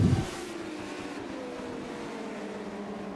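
Race cars in a Charlotte racing series round passing along the straightaway, a loud engine burst at the start fading into a steady distant drone with whining engine tones.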